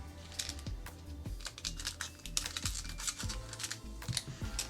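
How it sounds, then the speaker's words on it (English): Scissors, getting dull, cut open One Piece trading card packaging in a string of short, close crisp snips and crinkles with an irregular rhythm and no talk. "Man, I need to sharpen these scissors up. They are getting dull."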